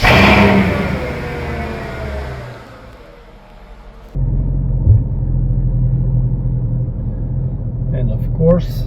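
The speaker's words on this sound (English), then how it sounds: "it doesn't go without cold start" A Mercedes SLK 55 AMG engine cold start: a loud running rumble fades briefly, then the engine catches with a sudden deep, steady idle that carries on, with talk over the first part.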